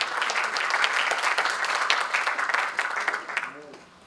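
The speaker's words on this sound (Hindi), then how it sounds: "बनता है तो जरा तालियां बजाइएगा" An audience at a national poetry gathering bursts into dense, sustained applause that tapers off near the end as talk begins.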